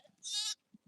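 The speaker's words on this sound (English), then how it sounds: "So we're with my sheep at this minute." A single sheep bleats once, close and clear, during feeding time on a farm, with a few faint soft thuds before and after.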